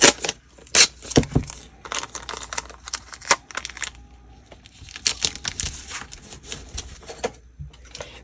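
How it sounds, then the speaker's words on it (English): Tape being pulled and pressed over cardboard flaps during a Halloween craft, heard as a run of sharp crackling tears and rubbing bursts, close and fairly loud, with quieter stretches between. "I'm just going to tape over them"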